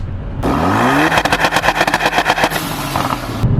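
A 2017 Ford Focus RS revs up, then bangs and crackles rapidly and rhythmically on two-step launch control, loud and close, before settling back toward idle.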